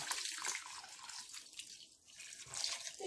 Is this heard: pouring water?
yes